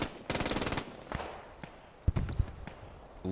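Machine gun firing in a multiplayer war game match, a short rapid burst of close shots up front, followed by scattered single cracks and thuds spread over the next few seconds, with no talking.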